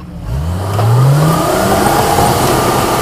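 A turbocharged stage 1 Unimog 4x4 off-road truck revs hard during extreme off-roading, its close, loud engine note climbing steeply in pitch and then holding at a high, sustained roar.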